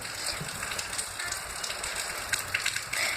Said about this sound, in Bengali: তেল গরম হয়ে গেছে ভালো মতন এবার এর মধ্যে আমি যে কাঁঠাল পাতার সমস্ত কিছু মেখে রেখেছিলাম ওই দিয়ে দেবো